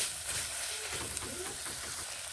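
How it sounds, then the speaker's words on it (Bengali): Spiced beans and coriander leaves sizzle in a pan as they are sautéed, a soft steady hiss with faint stirring scrapes, close and low in level, no voices. "এবার ধনে পাতা মিশিয়ে এইভাবে কষিয়ে নিচ্ছি"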